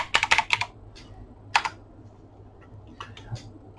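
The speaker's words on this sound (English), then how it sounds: "I'm going to type New Zealand National Anthem" Computer keyboard typing in a quiet room: a quick burst of clicking keystrokes, a lone cluster of taps a second later, then a few scattered light presses over a low steady hum.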